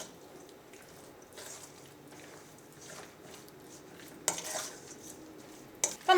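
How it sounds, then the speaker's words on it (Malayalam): Raw chicken is mixed with ginger garlic paste and salt in a bowl, giving soft, wet squishing and occasional clinks of utensil against the dish. Two sharper knocks stand out, one midway and one at the end. "എല്ലാം കൂടിയിട്ട് നന്നായിട്ടൊന്ന് മിക്സ് ചെയ്യാം."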